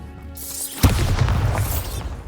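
The Bombarda blasting spell from the Hogwarts Legacy video game: one sudden deep boom that bursts in after a soft tonal lead-in, then a rumbling, crackling decay, close and loud.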